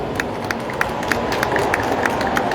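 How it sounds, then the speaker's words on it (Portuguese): An audience at a Japan festival presentation applauds the authors Bruno and Luiz Pascotto, a continuous wash of many hands clapping at moderate distance with a few sharper individual claps standing out. "pediu uma salva de palmas aqui aos autores Bruno Pascotto e Luiz"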